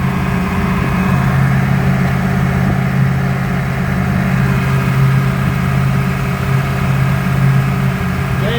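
The engine of a Supra Sunsport boat with a fuel problem runs steadily and loudly at a low idle-like drone, holding an even tone throughout with little sign of a rev rise.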